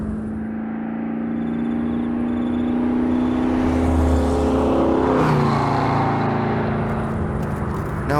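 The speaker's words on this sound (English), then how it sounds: "It sounds like a car engine." A car engine in the game Next Life hums steadily and builds in pitch, revving up around the middle before settling into a sustained drone, fairly close and loud.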